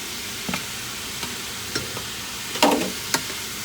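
Pork sizzles steadily in a hot pan while a utensil stirs it, giving sharp scraping clicks and one heavier clatter over the constant frying hiss, with no talking.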